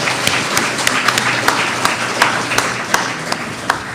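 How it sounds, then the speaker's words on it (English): Audience applause for two candidates at the close of a national elections debate in Anguilla, a steady patter of clapping with a few sharper individual claps standing out over a roomy background. "A round of applause for our two candidates tonight."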